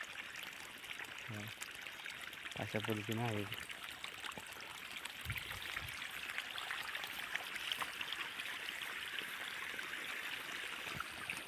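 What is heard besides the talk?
irrigation water flowing into a wheat field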